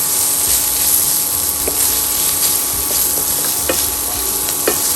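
Ginger paste and turmeric powder fry in a pan, with steady broadband sizzling throughout and a few soft spoon-stirring clicks, close and fairly loud, no voices.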